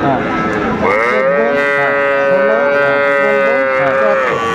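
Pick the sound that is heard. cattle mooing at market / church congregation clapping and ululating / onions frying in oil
cattle mooing at market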